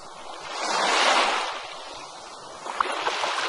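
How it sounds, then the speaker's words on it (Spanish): Ocean waves breaking on a beach, a broad rushing swell that builds and recedes, with wind noise around it and no voices. "El sonido de las olas es conocido por reducir el estrés."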